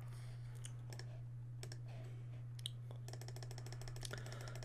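A few light computer mouse clicks sound faintly over a steady electrical hum, then a quicker patter of soft clicks near the end, with no one speaking.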